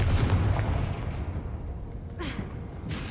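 A Confringo blasting spell fires in Hogwarts Legacy, a deep rumbling burst followed by a short crackling pop and a second sharp hit near the end, heard alone without talk.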